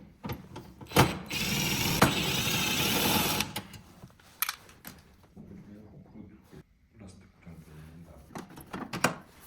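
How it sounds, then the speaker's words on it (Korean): Screws are backed out and a metal control box lid is opened on a Samsung Wind-Free standing air conditioner, giving a close run of whirring, clicking and scraping handling noises with pauses between. "고정된 나사를 풀어서 뚜껑을 천천히 열어주세요"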